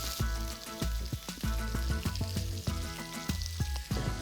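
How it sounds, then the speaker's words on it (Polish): Breadcrumb-coated peppers laid into heated oil give a close, lively sizzle full of sharp crackles and pops, heard alone without talk. "Olej już się rozgrzał. Układam papryczki."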